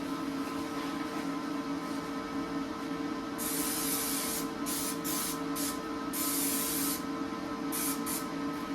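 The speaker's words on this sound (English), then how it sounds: "Spray it down. Keep your spatter from spattering. Need the anti-spatter." A can of welding anti-spatter spray hisses in several short bursts of varying length, close by, over a steady background hum.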